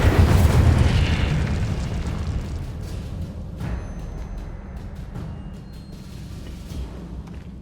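Incendio fire spell cast in the game Hogwarts Legacy: a loud, booming fiery burst at the start that rumbles on and slowly fades, with a few faint crackles later.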